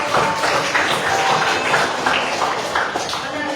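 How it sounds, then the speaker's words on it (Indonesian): Dense, steady clapping from a crowd at a university exam results session fills the whole stretch, with voices mixed in underneath. "Kita kasih tepuk tangan buat Rena."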